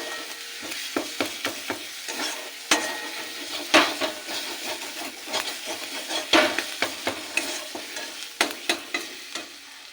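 Ground flat bean paste is stir-fried in oil until dry, a close sizzle broken by quick, irregular scrapes and knocks of the spatula against the pan.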